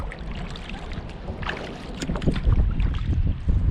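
Blustery wind buffets the microphone while kayaking on Slocum Creek in Havelock, North Carolina, a loud, rumbling wash with faint paddle and water sounds and no talk.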